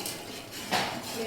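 A pot of freshly tempered tomato rasam is set down with a single metallic clunk and clink on a hard surface, close and fairly quiet.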